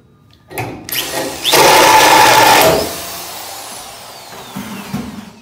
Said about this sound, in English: Now you can set the stuff up on the drill press